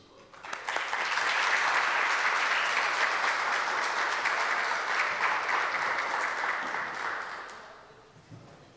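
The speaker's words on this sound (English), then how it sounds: "please give a big round of applause to our artist for today, Siba" Audience applause for a performing artist at a launch event, a warm wash of clapping that swells quickly, holds steady for several seconds, then fades out gradually, heard alone without talk.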